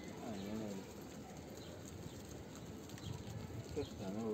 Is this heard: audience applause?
no